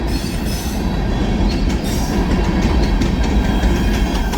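A freight train rolls steadily past the last crossing before a mill, a loud continuous rumble of railroad cars with faint wheel squeal and rail clatter throughout, close by and with no voices.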